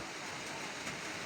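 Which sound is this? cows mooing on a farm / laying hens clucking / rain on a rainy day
rain on a rainy day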